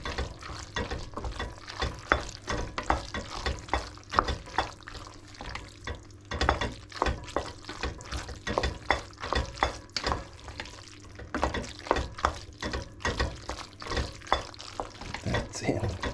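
Pasta and potatoes being stirred together in a pan, with repeated wet, sticky scraping and sloshing strokes of a spoon, close and rhythmic, some faint sizzling underneath.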